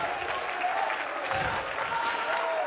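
Congregation clapping in a church service, a steady wash of many hands at moderate level with a faint murmur of voices beneath, continuous for a few seconds.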